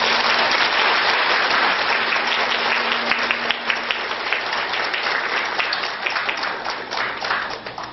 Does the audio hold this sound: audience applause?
yes